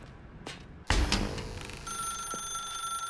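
A telephone rings in the video game The Stanley Parable: a bright electronic bell tone starts after a thump and holds steady, loud and clear, with no voices over it.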